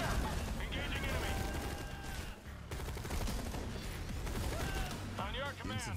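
Rapid gunfire in the real-time strategy game Tempest Rising, steady rattling shots kept low in a busy mix with in-game voice callouts and chirpy unit sounds layered on top.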